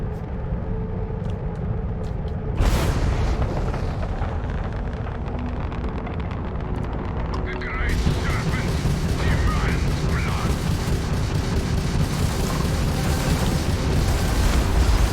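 Missiles explode one after another in a Starfield space battle, bursting in heavy booming blasts with a loud crack near three seconds and a denser, brighter barrage from about eight seconds on.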